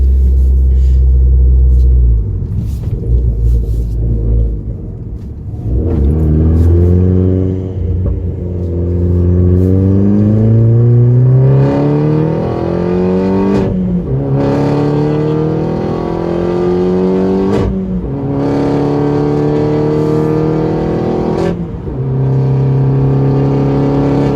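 A loud stage 3 tuned Corsa VXR engine idles, then revs up repeatedly to about 5,000 rpm in rising surges, each climb falling back before the next, close and dominant throughout.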